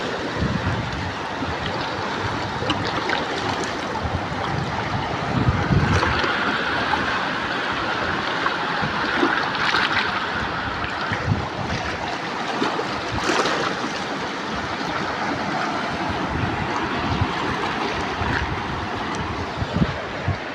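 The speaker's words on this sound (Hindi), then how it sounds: "देख रहे हो ना पानी भाई किस तरह के आवाज़ें आ रही है गोली की तरह" Loud, continuous rushing roar of floodwater, broad and turbulent with steady intensity and occasional surges, heard close with no talk.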